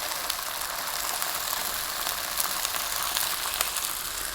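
Onions and tomatoes sizzle steadily in a hot pan, a continuous dense crackle with small pops throughout, close and fairly loud, no voices.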